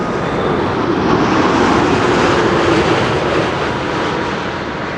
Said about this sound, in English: This is Air Canada Flight 900 arriving from Montreal, Canada. 7878 Dreamliner.